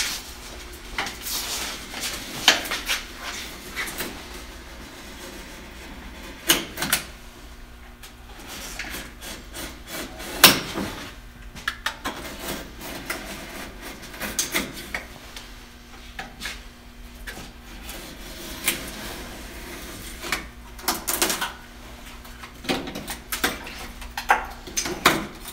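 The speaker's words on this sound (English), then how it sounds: "follow down the center of the stem. And I think a knife is a good choice for that" A knife blade scraping and shaving along the wooden centreline of a canoe stem, giving close, irregular rubbing and scraping strokes with short pauses between bursts.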